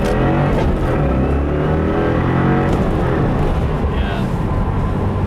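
A 2015 Subaru WRX with a Stage 1 93 tune launching in first gear, its engine roaring loud and steady as it accelerates hard, heard from inside the car.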